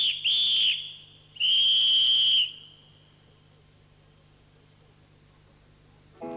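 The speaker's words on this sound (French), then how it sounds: "Monsieur Bienfait porta le sifflet à ses lèvres." Two shrill whistle blasts from Monsieur Bienfait, each lasting about a second, the second one steadier, followed by quiet with a faint low hum.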